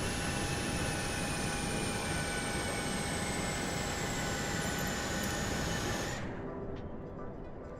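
Southwest Airlines airliner flying past in Microsoft Flight Simulator, a steady broadband jet roar with high whining tones that cuts off abruptly near the end, no talk.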